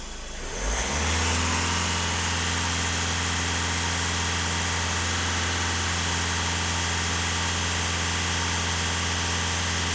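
A diesel VW Golf 1.6 TDI engine is pushed to full throttle and climbs quickly into a loud, sustained high rev, holding a steady droning roar with strong vibration throughout, with no voices.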